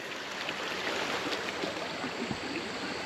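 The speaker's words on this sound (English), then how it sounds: "So this must be the famous Blood Creek" A creek at an old battlefield flowing steadily in a continuous broadband wash of water, even and moderately loud throughout, with no speech.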